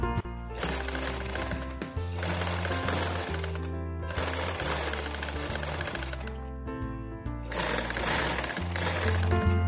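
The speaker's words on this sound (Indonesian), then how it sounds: "Kita jahit keseluruhannya yang udah kita pentulin tadi ya." A sewing machine stitches a shirt collar in loud, rapid mechanical bursts, stopping briefly between runs of stitching.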